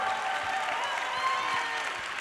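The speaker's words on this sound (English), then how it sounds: "will you guys give them a big round of applause for all they did for you?" Audience at a live social-selling panel session clapping for the panelists, a brief, moderately distant burst of applause from a crowd.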